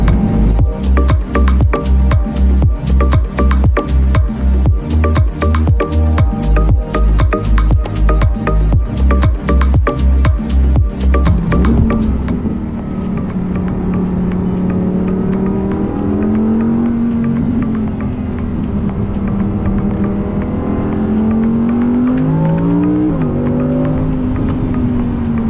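An Audi R8 V10 Performance engine revs loudly and close, rising and falling in pitch through repeated throttle blips, after a stretch of strong rhythmic pulsing at the start.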